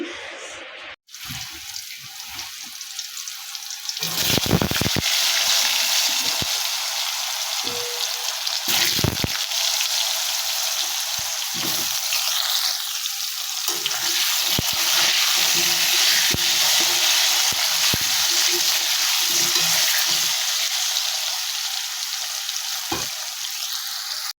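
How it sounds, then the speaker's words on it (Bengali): Potatoes fry in hot oil in a wok with a steady, loud, continuous sizzle that runs almost unbroken, punctuated by occasional stirring clatters and no talking. "তারপরে আলুগুলোকে ভেজে নেবো"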